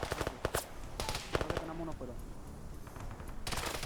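Gunfire in a PvP military shooter match, with several sharp bursts of shots early on and again at the end, mixed with faint voices and game ambience.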